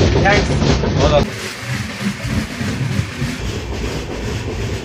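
The Samarsata Express pulls into Nagpur Junction station with a steady rolling rumble and clatter heard from onboard. A voice speaks briefly over the start, then the train noise carries on alone.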